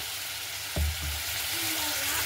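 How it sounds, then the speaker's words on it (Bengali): Spice mix with salt, cinnamon and cardamom hits a hot wok with a sudden short sizzle, then low steady frying crackle continues quietly. "এবার আমার সেই মশলা কড়াইটা যেটা আমি রেডি করে রেখেছিলাম সেটা আমি দিয়ে দিচ্ছি। দিয়ে দিচ্ছি লবণ।"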